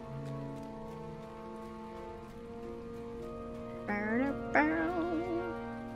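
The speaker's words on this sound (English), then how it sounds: "the problem when it rains is everything looks like it's sparkling" Steady rain falls in the game Lord of the Rings Online, a soft continuous patter under sustained musical tones, with a couple of brief pitched calls rising near the end.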